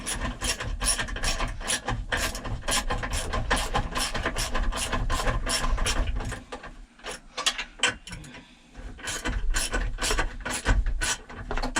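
Hand ratchet driving small bolts back into a John Deere 4630 tractor steering column, a steady run of quick clicking strokes with a brief pause midway, close and alone.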